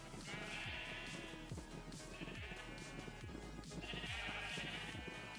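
Sheep bleat repeatedly in a castle yard stable, several overlapping wavering calls rising and falling over a busy farmyard background, fairly close and continuous.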